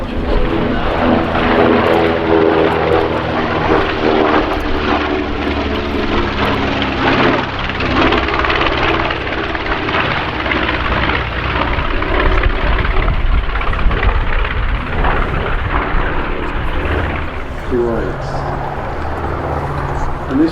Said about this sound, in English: this is a J model B-25